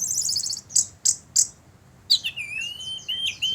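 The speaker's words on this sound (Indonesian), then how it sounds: "Kenari yo." A canary sings in short bright bursts: three sharp chirps, then rising and falling whistled trills, close and clear over a quiet background.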